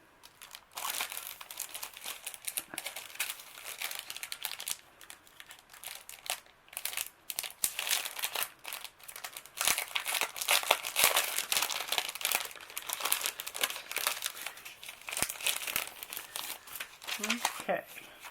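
Paper crinkling and rustling, thin sheets and vellum, as an unboxing of craft supplies goes on; steady close handling noise with brief tearing-like crunches and occasional speech over it.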